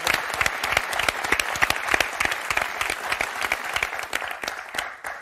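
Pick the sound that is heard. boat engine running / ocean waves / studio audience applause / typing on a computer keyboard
studio audience applause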